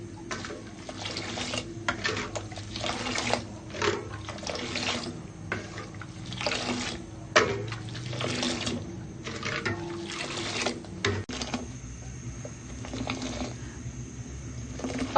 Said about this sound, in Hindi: अब हम अच्छे तरीके से इसको फेंट लेंगे इस तरीके से, ताकि ये ऊपर झाग झाग बन जाए